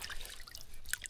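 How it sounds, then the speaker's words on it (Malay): Water dripping and trickling in forest puddles beside a mountain trail, used for washing clothes on a trek; soft, irregular drips and a faint steady trickle close by, with no talk. "Kita basuh dekat lopak-lopak air ni."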